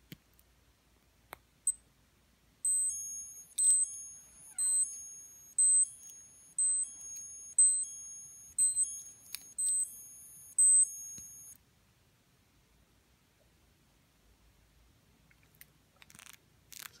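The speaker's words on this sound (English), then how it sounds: "The alarm is annoying, as you'll hear in a second." A Seiko Italian Tuna SLN003 dive watch alarm beeps in repeated high, thin bursts of rapid pulses for about nine seconds, alone and close, with a few faint clicks before and after.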